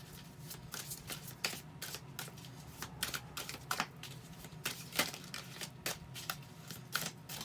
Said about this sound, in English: So hang on while I shuffle the other half.